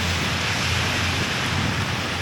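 Steady rain falling on a rainy autumn day in New York City, a dense close hiss of drops spattering on surfaces with a low rumble beneath, continuous and unchanging, with no talking.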